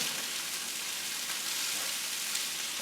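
Shrimp fried rice with broccoli, carrots and cabbage is stir-fried in a hot pan, a dense, steady hiss of sizzling that runs loud and close without a break.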